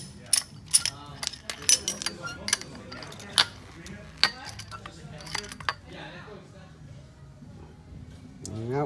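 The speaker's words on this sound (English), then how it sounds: "I'm using an 11 mil deep wrench to take these off." A ratchet with an 11 mm deep socket backs nuts off a natural gas appliance during a propane conversion, giving quiet clicking and metallic ticks in irregular bursts, with faint handling noise between them.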